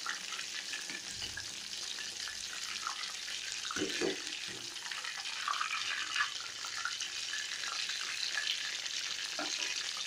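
Mushroom 65 pieces fry in oil over a slow flame, a steady bubbling sizzle with a few stirring knocks, and a voice speaks in the background.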